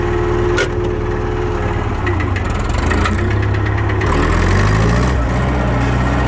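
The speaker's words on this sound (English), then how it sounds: "it definitely sounds better now that it doesn't have the exhaust gasket blown out" A Farmall 544 tractor engine runs steadily and loudly throughout, after an exhaust gasket repair, with a deep rumble, rattling vibration and slight shifts in pitch as it works.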